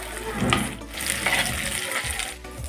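Chopped onions, green chillies and curry leaves hit hot oil in a pan for a cauliflower and dried prawn curry, producing a close, steady crackling sizzle with stirring scrapes throughout.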